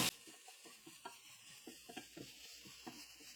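Chopped onion softening in a pan, with a soft, steady sizzle and a few light scrapes and taps of a stirring spoon, faint and close, with no talk.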